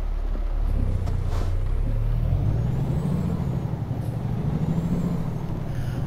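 A Cummins ISX600 diesel truck engine in American Truck Simulator rumbles steadily and loud, a deep continuous drone whose pitch rises slightly as it revs, with a faint air-brake hiss near the start.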